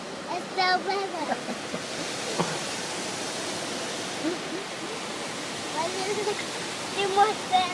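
Rinse water sprays over a car inside an automatic car wash, a continuous rushing wash of water heard from within the vehicle, with faint voices now and then beneath it.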